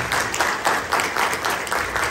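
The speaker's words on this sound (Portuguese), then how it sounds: "Uma grande salva de palmas!" A concert audience at a music show claps loudly together in a steady, rhythmic pulse, the beats coming in even repeated surges.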